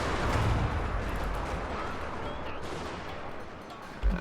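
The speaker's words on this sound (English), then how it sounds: "Suppression fire is going to increase my reload rate." Musket volleys and cannon fire from a Total War Shogun 2 Fall of the Samurai battle, a dense, continuous rumble of gunfire with a sharper boom near the end.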